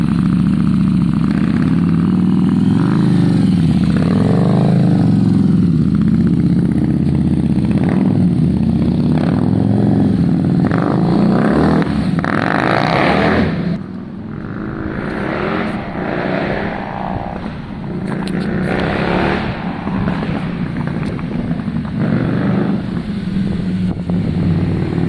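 A motorcycle engine drones steadily and loud nearby, rising and falling in pitch as it rides up and down, then fading slightly as it pulls farther away.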